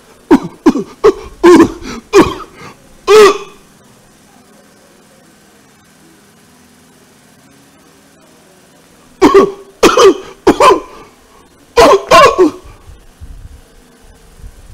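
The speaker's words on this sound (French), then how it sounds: "Quand elle se met à tousser, vous avez pitié d'elle." Two bursts of harsh, close coughing, a rapid string of five or six coughs, a long pause with faint background hum, then another cluster of coughs.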